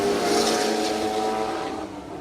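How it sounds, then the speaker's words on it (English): A turbocharged, air-cooled 1969 Volkswagen Beetle launches at a drag strip, a loud, roaring engine blast that stays close and strong, then fades slightly as the car pulls away. "watch the wheel stand out of the air-cooled V-dub there in the pit lane"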